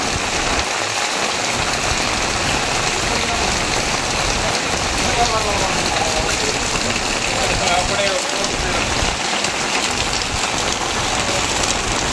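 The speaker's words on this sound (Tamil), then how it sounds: "நெல்லை மாவட்டத்தில் தொடர்ந்து கனமழை பெய்து வருகிறது." Heavy rain pours steadily during flooding in Nellai district, a dense, constant hiss of downpour on surfaces lasting throughout with no breaks.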